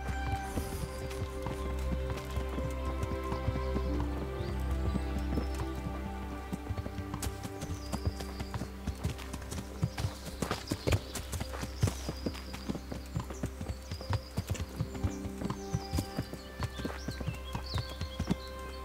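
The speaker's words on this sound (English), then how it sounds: "While His Royal Highness gets to ride on a horse" Steady video game horse hooves clip-clop in a brisk rhythm, fairly close, over a low background drone, with no one speaking.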